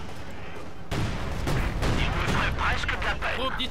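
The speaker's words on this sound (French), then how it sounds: "On essuie des tirs d'armes légères" Sustained small-arms fire rattles in a World War II battle at the Reichstag in Company of Heroes 2, with dense overlapping rifle and machine-gun shots that break out suddenly and continue loudly.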